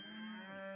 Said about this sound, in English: I hear cows mooing over there.